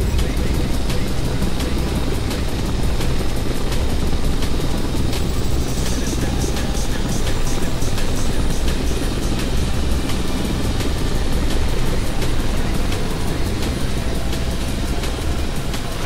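A helicopter hovering low over water in the FSX flight simulator, a loud, steady rotor and turbine roar with a fast rhythmic beat that runs unbroken throughout, close and alone.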